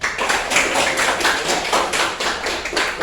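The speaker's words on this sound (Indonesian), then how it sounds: "tepuk tangan." A classroom group applauds together, a loud, close, continuous patter of hand claps that holds steady for a few seconds.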